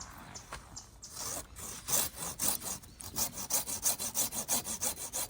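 A hand saw cuts through a mesquite branch during pruning, steady back-and-forth rasping strokes speeding into a quick, regular rhythm, close and fairly loud with no talking.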